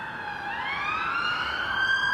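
Emergency vehicle sirens passing outside, loud wailing tones sweeping upward and holding steady, with a faint traffic hum underneath and no talk.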